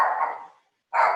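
A small dog barks at movers: two sharp, close barks separated by a brief pause, with no other sound around them.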